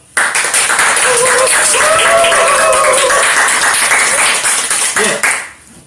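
Staff members clap together at a live talk event held in an office setting, a dense and loud burst of applause that starts abruptly, holds steady for about five seconds with voices mixed in, then tapers off.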